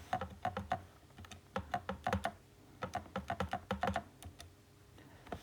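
Close, crisp button presses as a calculation is keyed into a calculator, quick clicks in clusters of three or four with short gaps between them, alone and fairly quiet.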